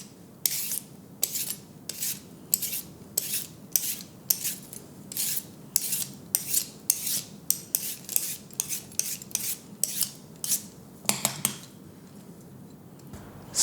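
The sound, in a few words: peeling outer strings off celery with a peeler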